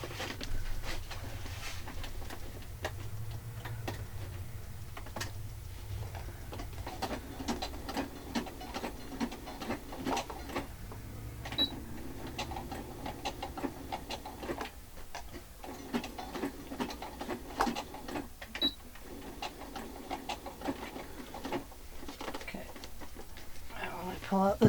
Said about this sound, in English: My sewing machine is tangling up my foot.